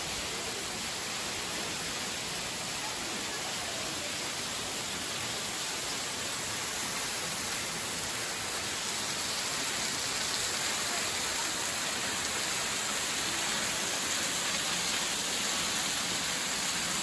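The Giessbach waterfall in Switzerland roars as a steady, dense, hissing rush of falling water, unbroken and fairly loud throughout.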